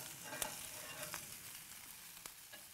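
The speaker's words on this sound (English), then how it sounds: "Sausages are now beginning to sizzle away nicely." Sausages sizzle softly and steadily on a grill on a five-burner gas barbecue, a faint crackling hiss with an occasional sharper pop, and no voices.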